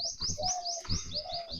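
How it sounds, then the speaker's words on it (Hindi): Small birds chirp and tweet repeatedly in quick bursts at an outdoor temple site, Anand Murti Dham in Rewai, fairly close and clear, with soft low rumble of ambient noise beneath. "ये देखिए पक्षियों का चहचहाना भी होता है यहाँ"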